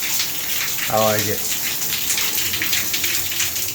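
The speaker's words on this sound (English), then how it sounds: "That's rainfall and waterfall at the same time." Water sprays from a Japanese shower head set up as rainfall and waterfall at once, a steady hissing gush throughout while someone briefly talks over it.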